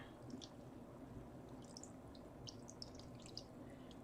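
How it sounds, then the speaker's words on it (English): Water added to a dye mixture with espresso bean during yarn dyeing: faint, scattered drips and small splashes over a low background hum, quiet and close. "Add some water."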